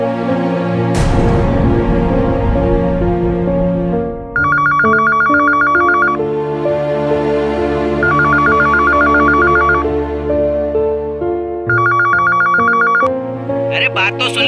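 A telephone rings in the Hindi TV crime drama India Alert, with three separate bursts of ringing over a loud musical background and voices.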